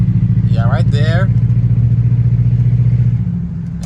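Jaguar XJR engine idling with a rhythmic tapping in the exhaust and a misfire issue, a loud steady low pulsing close by; someone speaks briefly over it before the engine note drops slightly.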